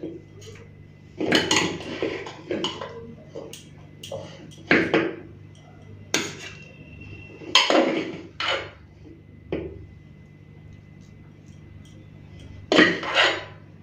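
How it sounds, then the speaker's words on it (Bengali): Dishes and utensils clink and clatter while steamed rice from a pressure cooker is served onto a plate, sharp separate knocks and scrapes at irregular intervals over a quiet room with a low hum. "তো বন্ধুরা ভাত বেড়ে নিয়েছি, এরপর তরকারিগুলো নিয়ে নেব।"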